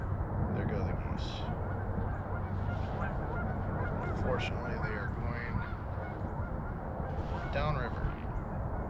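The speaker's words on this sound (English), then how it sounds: "There go the geese." Canada geese honk repeatedly as they lift off a river bend during a hunt, their calls overlapping at middle distance while someone speaks over them.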